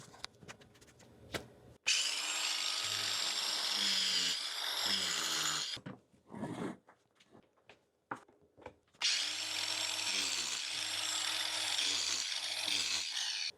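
An angle grinder fitted with a carving disc cuts into material, with a loud, continuous high whine in two long runs broken by short bursts and pauses, close up, no talking.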